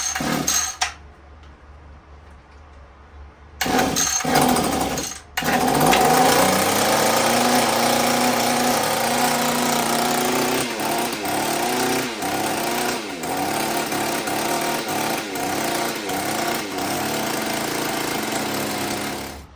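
An Echo HC 152 hedge trimmer's small two-stroke engine cranks with a few brief pulls, then fires and keeps running loud and close with a steady buzzing drone and slight revving changes.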